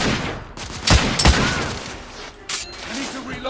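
Gunfire in the video game The Order: 1886, two sharp close shots in quick succession followed by another burst, loud against a murmur of voices and battle noise.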